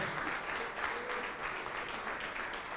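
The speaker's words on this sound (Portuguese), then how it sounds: "Vamos aplaudir mais ao nome de Jesus" A church congregation claps continuously at a distance, an even wash of applause without pauses, fairly faint.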